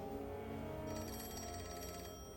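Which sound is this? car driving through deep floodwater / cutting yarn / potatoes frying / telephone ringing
telephone ringing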